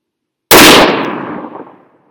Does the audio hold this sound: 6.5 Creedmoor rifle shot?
yes